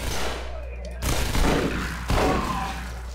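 Shotgun blasts in the game SMOD Outbreak, two heavy booming shots about a second apart, loud and close, each with a short rumbling tail.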